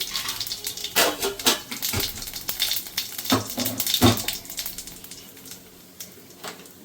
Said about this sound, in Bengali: কড়াতে আমি তেল দিয়ে দিয়েছি, দেবো একটু সামান্য জিরে ফোড়ন